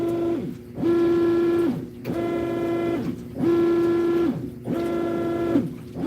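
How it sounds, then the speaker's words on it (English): A top-loading washer agitates with a steady motor whine that rises, holds and drops in a regular cycle, each stroke lasting about a second, repeating four times, close and fairly loud, with no talking. "Now, this washer has decent wash action"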